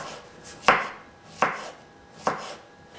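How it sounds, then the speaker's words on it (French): A knife chopping courgettes on a cutting board, three sharp evenly spaced chops, close and clear with no talking. "Je vais couper mes courgettes."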